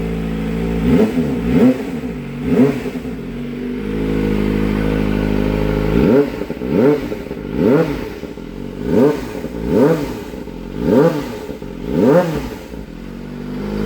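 A Kawasaki ZX25R motorcycle fitted with an OEM muffler is revved repeatedly from idle. Its engine note rises and falls in close, loud, rhythmic sweeps, with a steady idle between bursts and no talk.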